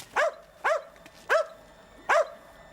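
A dog barks four times in sharp, evenly spaced, clear woofs at moderate distance, with quiet pauses between them.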